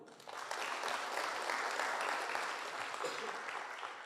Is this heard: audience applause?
yes